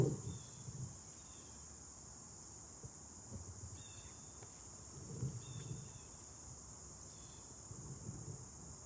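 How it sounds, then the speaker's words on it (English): Crickets chirp steadily in a quiet outdoor setting, a faint continuous high trill with occasional soft low rustles underneath. "tap into the sounds of crickets"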